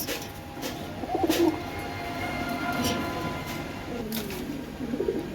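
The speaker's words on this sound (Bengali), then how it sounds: "দেখেন এখানে এক পেয়ার কবুতর আছে, খুবই সুন্দর" A pair of pigeons, a female Tiger and a male Afsan, cooing softly in low throaty bursts, near and moderately faint against a steady background rumble.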